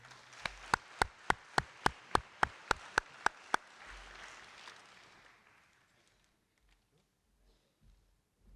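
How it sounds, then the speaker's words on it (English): A single person claps about a dozen sharp, evenly spaced times at a high school senior athletic banquet, honoring graduating senior athletes, then the clapping stops and the room fades into quiet murmur. "another round of applause for our seniors"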